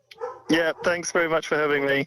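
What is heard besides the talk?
dog barking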